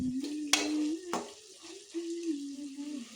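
Okra palya (bendekai curry) sizzles steadily in a pan as a spoon stirs it, with two sharp scraping clacks near the start and a continuous frying hiss under quiet talk.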